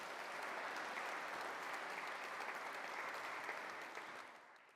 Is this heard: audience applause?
yes